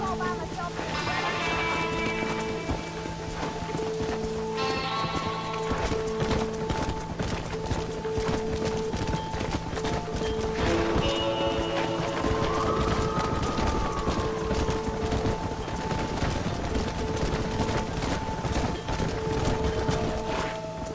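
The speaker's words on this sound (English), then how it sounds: "They're spooked! We have to stop the stampeding!" In a Red Dead Redemption game scene, a stampeding herd of horses gallops with steady, dense hoofbeats and occasional whinnies under a music score, loud and continuous throughout.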